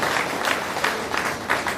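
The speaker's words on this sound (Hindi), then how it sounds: "अगर तालियां बजे तो एक एक व्यक्ति के हाथ" Audience applause at a Hindi patriotic poetry recital, a steady wash of clapping with a few louder swells, moderately close and filling the whole short stretch.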